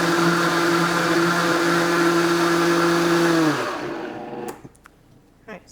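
A kitchen blender runs at full speed on a plant-based macaroni and cheese sauce, a loud steady whir that winds down and stops, followed by a few small clicks and knocks.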